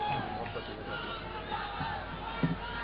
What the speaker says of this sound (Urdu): آپ دوست بھرپور نعروں سے اور تالیوں سے ان کا